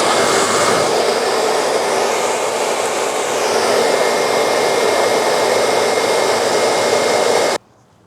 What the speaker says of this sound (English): I would like to do it with a hairdryer just to speed up the process.